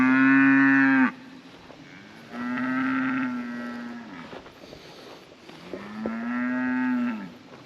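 Cattle on a farm on a hot day let out three long, deep moos, each lasting a second or more with pauses between. They are close and loud, with no talking.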